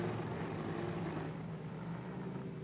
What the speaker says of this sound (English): Carril derecho tenemos a Bill Love con el blower que suena bien duro